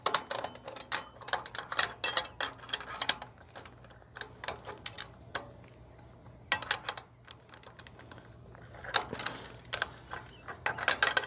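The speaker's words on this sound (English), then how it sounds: "I'm going to tighten the nut up" A ratchet wrench tightens a nylock nut on a trailer hub, with rapid bursts of sharp metallic clicking separated by short pauses, close and fairly quiet with no talk.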